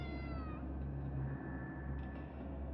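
A cat meows in the video game Conarium, a single drawn-out wavering cry near the start followed by a quieter lingering tone over a steady low hum, with no talk.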